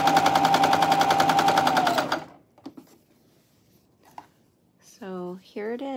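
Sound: Janome coverstitch sewing machine hemming fabric

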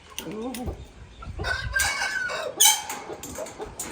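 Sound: roosters and hens crowing and clucking

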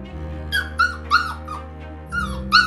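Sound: dog barking

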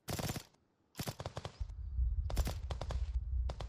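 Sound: gunfire at a drone in a video game

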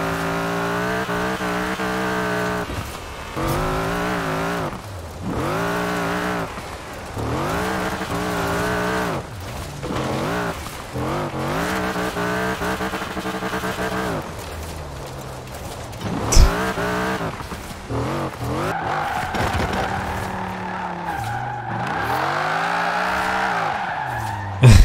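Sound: Jeep CJ5 with Viper V8 engine driving and drifting, Forza Horizon 4 video game

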